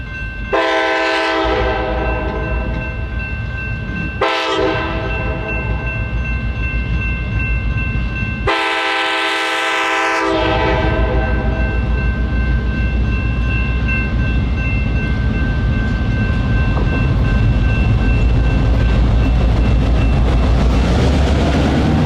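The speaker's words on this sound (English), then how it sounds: "Leading the two-car train west was GP38-2, number 5176, with a unique K5LA air horn." GP38-2 locomotive number 5176 leads a two-car train west, sounding its K5LA air horn in three loud blasts, the last one long, followed by the rising rumble and rail noise of the passing train.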